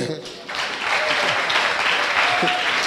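A church congregation at a French-language worship service breaks into steady, dense applause that swells after the first half second and holds loud throughout, with voices mixed into the clapping.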